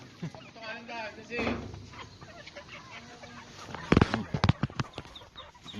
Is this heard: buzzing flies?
no